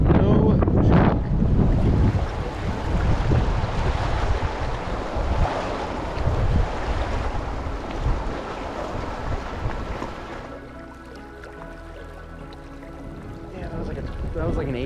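Strong wind buffets the microphone on open water from a launched fishing boat during fall fly fishing in the Rockies, with waves lapping. Loud, steady gusting dominates the first ten seconds, easing slightly after, with people talking over it.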